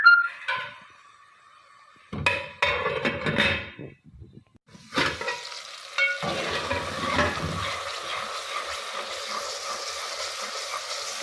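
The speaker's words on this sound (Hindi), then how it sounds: "टमाटर को हम अच्छे से भून लेंगे कि ये अच्छे से प्याजों में सेट हो जाएं।" Tomatoes fry with onions in a pan, giving a steady sizzle with stirring scrapes and a few clinks of the pan that settle into continuous frying noise, with no talk.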